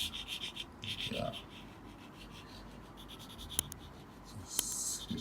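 Pencil sketching an apple on paper, soft scratchy strokes in short bursts close by, with faint rustles and a couple of light taps.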